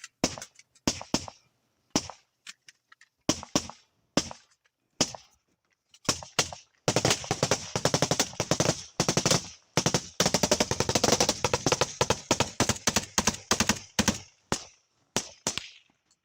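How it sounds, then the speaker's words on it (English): Rapid bursts of gunfire crackle in sharp volleys in the war in Ukraine, with scattered single shots and sustained automatic fire, punctuated by bullets snapping off the ground nearby. "we can now hear a little bit of return fire as we hear some bullets snapping off the ground"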